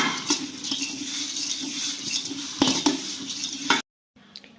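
Girmit puffed rice tossed with masala in a bowl: continuous rustling and crunchy shuffling with clinks of a spoon against the bowl, loud and close, then a sudden cutoff and brief quieter rustle.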